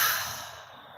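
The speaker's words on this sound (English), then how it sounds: "taking an inhale and exhale with the sound of inhale" A slow, deep breath in and out during a guided relaxation, a single soft airy exhale that fades gradually over a second, close and alone.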